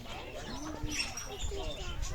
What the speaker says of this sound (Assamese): আজি চৰাই চিৰিকটি কিছুমান আপোনালোকে দেখি আছে